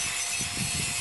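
A grinder sharpening a rubber tapping knife, a steady close gritty hiss of abrasive grinding against steel with a slightly wavering texture, heard alone for a brief moment.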